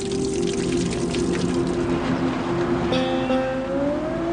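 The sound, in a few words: river flowing through the Badlands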